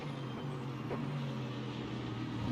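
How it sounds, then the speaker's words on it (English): A low, steady Mustang race car engine drone hums throughout in a racing video game, with a faint rising whine midway, heard from inside the cockpit. "I can hear the Mustang in my ear."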